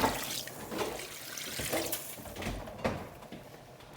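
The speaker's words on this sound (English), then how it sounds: "So I'll go ahead and add some more water." Water pours and trickles into a pot of West African soup in the middle of cooking, in short uneven splashes up close, with a few sharper spills.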